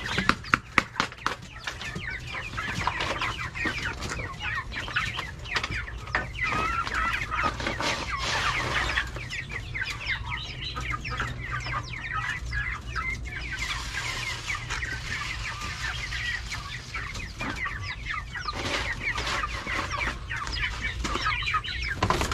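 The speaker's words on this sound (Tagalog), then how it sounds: "Manok na puti." A white chicken clucks steadily on a small farm, with other fowl joining in for a continuous, fairly close chorus of clucks and cackles, with no talk.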